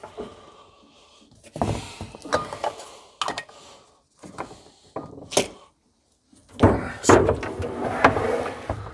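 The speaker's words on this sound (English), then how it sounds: "Put this in there with this drawer with the blocks." A cabinet drawer in a home garage bodywork space opens and closes with a few wooden thunks and sliding rattles, close by and spaced out among handling noises.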